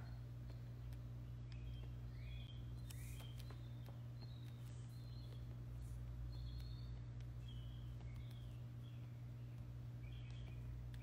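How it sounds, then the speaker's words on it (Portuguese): Small birds chirp outdoors in short, scattered high tweets across the clip, faint over a steady low hum and background noise. "Você tá ouvindo os passarinhos, Patrícia?"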